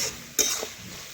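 Vegetables, potato and ridge gourd, cooking in a pot over a stove; a single sharp stir and scrape of a utensil rises briefly over a soft, steady sizzle.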